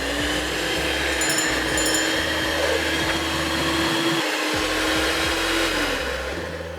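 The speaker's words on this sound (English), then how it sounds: "Back in with the mixer." An electric hand mixer whirs steadily through vegan custard cookie dough, a close continuous motor drone with a brief dip in pitch midway, no talking.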